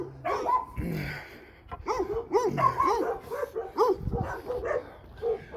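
Several dogs bark and yip outside an animal shelter, a run of sharp, moderately distant barks with a few whimpers mixed in, heard alone without talk.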